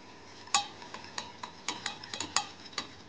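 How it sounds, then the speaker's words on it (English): A utensil stirs cream in a pot on a stovetop heater over medium heat, giving a run of light, irregular clinks and taps against the metal, fairly quiet with no talking. "I put again on the heater and I will mix to have like a cream."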